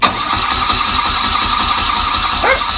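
A BMW R80/7 motorcycle engine cranks over with a rapid, rhythmic chugging pulse, loud and close, turning steadily without catching into a clean idle.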